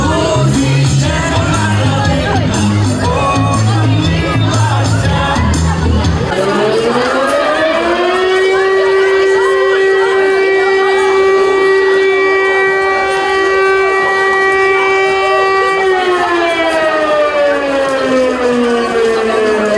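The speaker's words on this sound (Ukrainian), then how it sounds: "навіть веселе свято у навчальному закладі перервала повітряна тривога" An air raid siren in Ukraine interrupts a school celebration: children's chatter fills the first seconds, then a loud, steady wail rises, holds for about ten seconds and begins to fall away.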